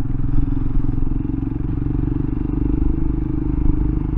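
A Royal Enfield Himalayan adventure motorcycle riding an unsurfaced forest track at Kielder, a continuous close engine drone with loose clattering and scraping from the gravel surface.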